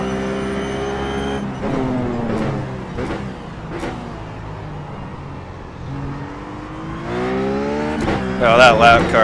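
Ruf GT3 race car in the iRacing sim on a Donington Park sprint-race lap, its engine revving through rising and falling gear pitches with sharp upshifts, running steadily loud and close from start to finish.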